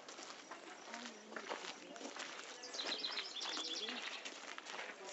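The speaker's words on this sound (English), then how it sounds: "Hear the birds chirping?" Birds chirp outdoors near a building, with short bright calls repeating through the middle and second half, while people talk over them and footsteps shuffle nearby.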